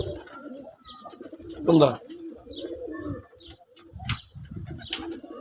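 Desi red pigeons coo in low, soft, throaty bursts, with a few louder calls and some wing flutter, while someone talks nearby.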